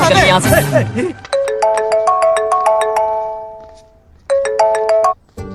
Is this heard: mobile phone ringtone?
yes